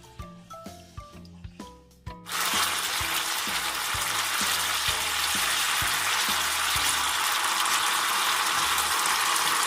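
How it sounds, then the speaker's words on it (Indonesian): Lime leaves and ground chili hit hot oil in a home kitchen with a sudden loud sizzle that stays steady and close, after a few seconds of tinkling musical notes. "Kita panaskan minyak, kita tumis daun jeruk dan cabai giling."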